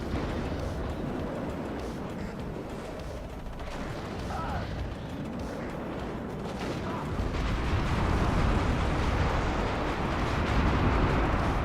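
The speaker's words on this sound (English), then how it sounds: "Just so much artillery now at this stage of the game." Artillery fire in the strategy game WARNO, dense booms and crackling impacts rolling together into a constant heavy rumble that swells louder partway through, with a voice talking over it.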